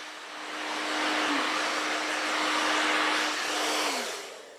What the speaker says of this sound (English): I have my hair dryer on a medium heat